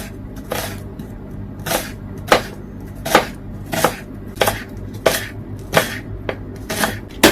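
Red onion being chopped with a knife on a board, about a dozen crisp, evenly spaced cuts landing roughly every half second, close and clear with no talking.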